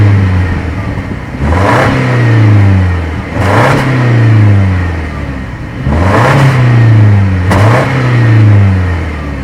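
A 2016 Subaru Impreza's exhaust at the rear passenger side, its engine revved four times in a row, each rev climbing sharply then falling back to a steady idle, loud and close with no talking.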